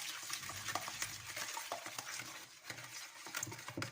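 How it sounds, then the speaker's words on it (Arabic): A spoon stirs a peanut sweet mixture with cinnamon in a bowl, giving quiet close scraping and clinking strokes in an uneven rhythm, with no talking. "صافي غنخلط الخليط ديالنا مزيان"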